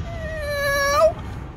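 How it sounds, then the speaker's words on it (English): A single cat meows loudly and close by in one drawn-out, rising cry lasting about half a second, heard alone over a faint low background. "Yeah, I thought it was a cat."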